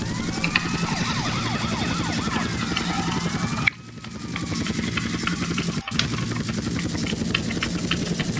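A helicopter in GTA Vice City drones steadily under police sirens wailing in the game, a loud continuous mix that briefly cuts out twice.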